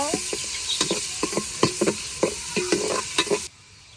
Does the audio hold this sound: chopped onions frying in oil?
yes